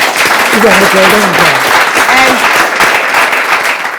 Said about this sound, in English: Let me clap myself.